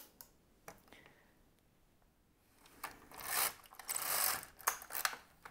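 An LK-150 knitting machine carriage makes a close rasping pass across the needle bed during sweater knitting, preceded by a few sparse clicks of handling and no talking.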